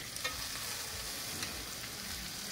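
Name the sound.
ambadi (roselle) leaves roasting and stirring in pan with crab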